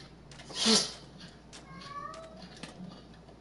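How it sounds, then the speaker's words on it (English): A house cat gives one short, fairly loud meow up close, followed by faint, thin chirping vocal sounds over a quiet room hum. "That's just my cat being weird."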